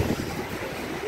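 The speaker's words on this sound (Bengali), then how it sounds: "যতক্ষণ পুরো হাওয়া দিচ্ছে, হাওয়াটা ওখান দিয়ে ঢুকছে, যতক্ষণ বৃষ্টি হবে কিছু করা যাবে না" A Kalboishakhi storm lashes a house with strong gusting wind and rain, a steady rushing roar buffeting the microphone close by, with no talk.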